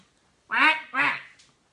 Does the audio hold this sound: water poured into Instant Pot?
no